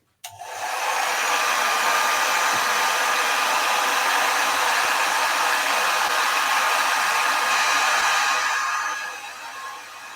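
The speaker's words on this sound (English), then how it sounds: "I'm just going to use the hairdryer on this." A hair dryer blows on wet paint in one steady, loud, continuous rush for about nine seconds, then winds down as it is switched off near the end.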